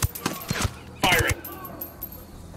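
Gunfire in the tactical shooter game Ghost Recon Wildlands comes as several sharp shots, with a louder burst in the middle, under and between voices talking.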